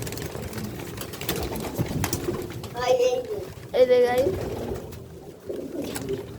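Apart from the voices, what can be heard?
pigeons cooing in a loft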